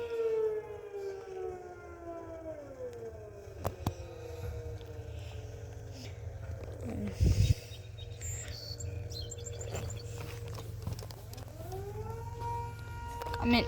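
A 10V civil defense siren near a water tower wails through long rising and falling tones, fairly distant and steady for the whole stretch, with birds chirping faintly and a brief louder knock partway through.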